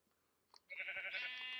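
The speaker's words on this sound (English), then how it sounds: "I thought that was a black sheep." A sheep in the Minecraft survival video game on Xbox One lets out one sustained, fairly loud bleat after a quiet start with a brief click.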